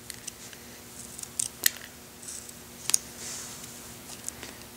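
A knife carving a golf ball made of harder-than-usual material, making sparse, quiet, sharp scraping clicks and short cuts in a few isolated bursts against a faint, quiet background.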